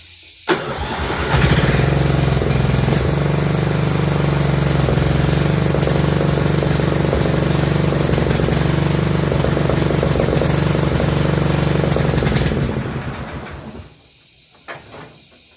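A 2004 Murray lawn tractor engine is cranked by the starter for about eleven seconds, a loud, steady mechanical grinding that never catches before stopping, followed by a few faint clunks.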